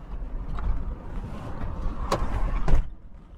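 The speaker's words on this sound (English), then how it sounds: "There, door's closed." A Subaru car door shuts with a couple of solid thumps at an outdoor Japanese car show in cold weather, amid low background rumble.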